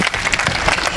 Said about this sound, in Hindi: एक बार आपकी तालियां मुझे अनुमति देंगी कि मैं इस काव्य पाठ को यहाँ से प्रारंभ कर सकूं